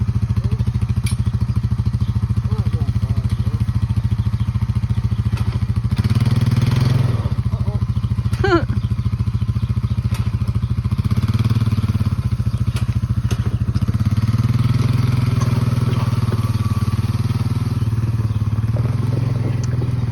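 Four-wheeler ATV engine idling and pulling farm equipment, a hay rake, out on a farm: a steady loud low engine drone with a continuous rumble, occasional clatter and thumps from the towed implement.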